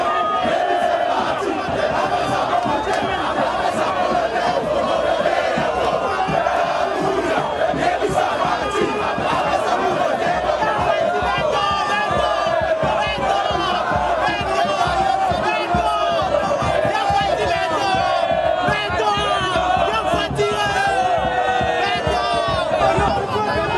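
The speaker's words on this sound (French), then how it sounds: "de sa chère épouse Denise Nyakeru Tshisekedi sous une salve d'applaudissements, des chansons et des cris de joie." Dense crowd at a campaign rally arrival for Félix Tshisekedi in Équateur, cheering, singing and shouting continuously and loudly throughout, with a constant roar of many voices and no break.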